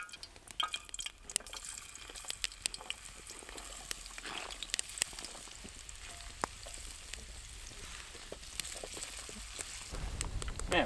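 Fresh potatoes and onion fry in oil in a pan at a solo camp, a soft, continuous sizzle with scattered crackles and pops at low volume, no talking.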